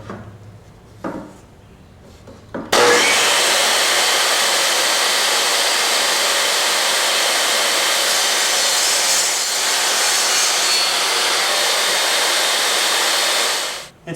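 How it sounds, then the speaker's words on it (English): A power saw makes repeated shallow passes across a wooden bat house panel, starting abruptly with a loud, steady whining roar that holds for about eleven seconds before cutting off, after a few quiet knocks and no speech. "So I set my saw for about an 8 inch depth, and we're just going to make multiple passes, 1/2 inch wide, all the way down."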